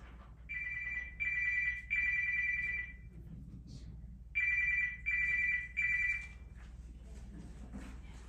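A phone ringtone goes off during a church service, sounding in two groups of three loud electronic trilling bursts with a short pause between the groups, over a low hum of the room.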